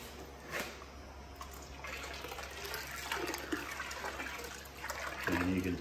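Liquid pours steadily into a vessel while yeast is pitched for winemaking, a continuous rushing gurgle at moderate level that ends in a bubbling glug.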